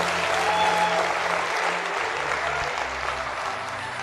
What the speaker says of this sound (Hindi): आज आप इनके लिए तालियां बजा सकते हैं